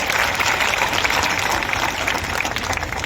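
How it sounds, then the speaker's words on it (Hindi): An audience at a community meeting claps steadily, a dense, loud, continuous patter of many hands throughout, with no voices heard over it. "जोरदार तालियां बजाई जाए।"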